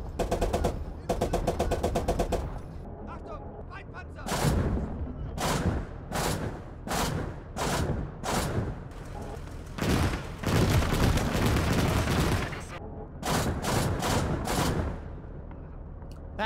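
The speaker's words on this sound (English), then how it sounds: "That's a really nasty way to go to an autocannon." Autocannon fire in the WWII game OstFront rattles out in a dozen or so short, heavy bursts with brief gaps between them, loud and close over steady battle ambience.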